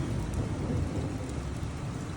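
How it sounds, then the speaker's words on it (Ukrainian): Heavy rain pours steadily beneath a deep rumble of thunder during the season's first thunderstorm over farm fields, a loud, dense wash of sound that cuts off abruptly at the end. "Дощ паріщить, гримить, блискає, перша груза в тому році."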